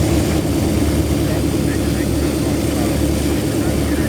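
A DE 24000 diesel locomotive engine run at 1200 RPM in a train video game, a dense constant low drone and rumble that holds steady and loud throughout with no breaks.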